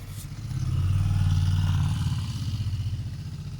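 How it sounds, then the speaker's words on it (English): An old Honda CX500 motorcycle at Cumbernauld Airport, rumbling close by with a steady low throb that swells and then settles into a chugging idle. "there's the old guy on his Honda CX500"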